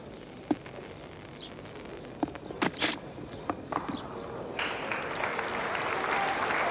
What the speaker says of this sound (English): Alan Lamb gives a lot of applause to Russell for playing a shot